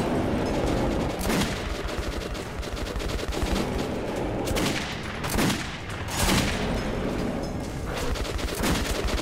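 Loud bursts of rapid gunfire from Metro 2033 fill the stretch, machine-gun rattles broken by several heavier booming shots, continuous and close with no voices over it.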